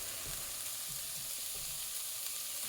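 Onions and celery sizzle steadily in a pan for red beans and rice, a dense continuous frying hiss with a few soft low thumps of stirring, close and alone with no talk.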